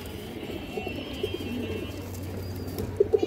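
A female brown-throated (khoyra gola) pigeon coos softly over low background hum, with a couple of sharper louder coo notes near the end; no voices.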